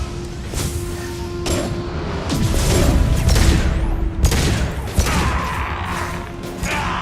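Sustained gunfire and explosions of a firefight in the video game Mass Effect 2, with bursts, crashes and heavy thuds layered loudly over a continuous noisy battle din.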